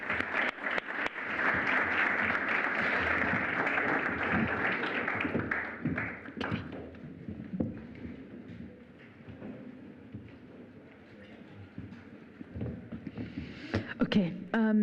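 Sustained audience applause at a European clubs launch event, dense clapping from a sizable crowd for several seconds, then thinning into scattered claps and room murmur with some talk, before a brief renewed flurry at the end.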